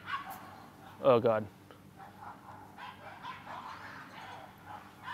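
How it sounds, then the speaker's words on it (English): Dogs fighting in a park: a loud burst of yelping and barking near the start, then fainter scattered yips and growls further off, with a person speaking briefly. "There's a big dog fight going on over there."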